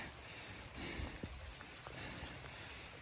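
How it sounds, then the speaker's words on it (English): Rain falls steadily on a green woodland stretch of the Appalachian Trail, a soft, continuous hiss with scattered drops tapping nearby surfaces, the only sound present. "it's raining far too much and there's no views today"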